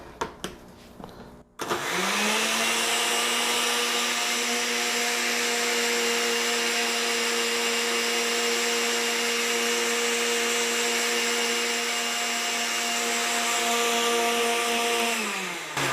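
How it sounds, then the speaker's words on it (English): A blender motor blending coffee whirs steadily and loudly for about fourteen seconds after a brief quiet start, its pitch holding even before winding down at the end. "You could use any blender, doesn't matter."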